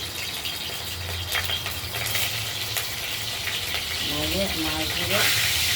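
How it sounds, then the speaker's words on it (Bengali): Boal fish is frying in hot oil, giving a loud, steady hiss and sizzle with crackles and spatter, and faint voices underneath. "মাছ তো ভাজতে গেলে একটু তেল ছিটকাবে ফাটবে"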